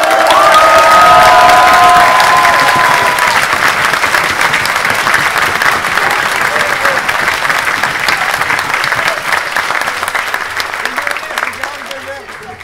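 Large festival crowd applauding and cheering loudly and continuously, dense clapping with shouts and whistles near and far, a few high whoops early on, slowly thinning toward the end.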